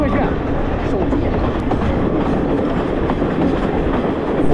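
Sri Lankan mountain train running on rails on the ride from Nuwara Eliya to Ella, a loud continuous rumble with rattling wheel clatter, heard from inside the carriage.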